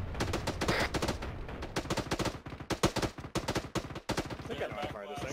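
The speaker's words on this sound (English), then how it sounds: "Armed UAZ with a Dushka." A Dushka heavy machine gun mounted on an armed UAZ technical fires in Arma 3, hammering out long, rapid bursts of loud, close shots broken by a few short pauses.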